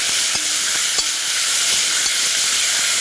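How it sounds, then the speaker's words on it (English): Beef with onion and garlic sizzles loudly and steadily in a pan, a dense close hiss with a few faint clicks, no voices. "The minute delicious beef with seasonings like onion and garlic hit a pan, wow, smells fantastic."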